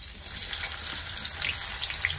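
Chopped onion frying in hot oil sizzles loudly and evenly, a close, continuous crackle with faint stirring and no voices.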